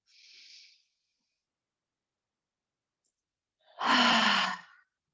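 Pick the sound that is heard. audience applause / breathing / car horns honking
breathing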